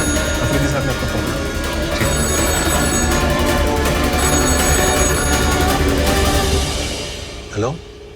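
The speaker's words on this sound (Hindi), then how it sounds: "अफरीदी साहब ने आपका फोन।" A telephone bell rings loudly and continuously in a busy office scene, then cuts off near the end, followed by a short sound.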